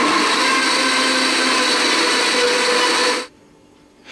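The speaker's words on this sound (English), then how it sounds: "I've got about 500 grams of lovely fresh ripe strawberries, which I've just roughly chopped up, and I've got them in the blender." A blender purees about 500 grams of roughly chopped fresh ripe strawberries, running as a loud, steady whir for about three seconds before cutting off abruptly into near silence.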